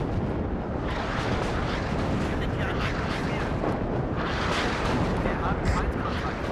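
A dense, continuous rocket artillery barrage rumbles loud and close in the WARNO wargame, a roaring wall of overlapping blasts and whooshes with no break for the whole stretch.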